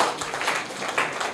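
Loud applause and clapping from a classroom of students in a government school quiz session, a dense steady patter of many hands filling the whole short moment.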